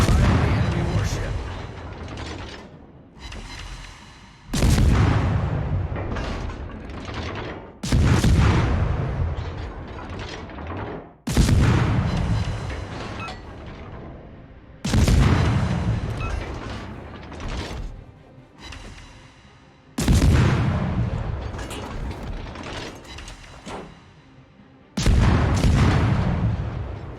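Heavy naval guns from a US destroyer fire in a naval combat video game, booming salvos about every five seconds, each sharp blast trailing into a long rumbling decay.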